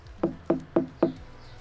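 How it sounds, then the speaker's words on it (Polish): Knuckles knock on an 11 kg watermelon to test its ripeness: four close, hollow knocks in an even quick rhythm, then quiet. "Arbuza pukamy."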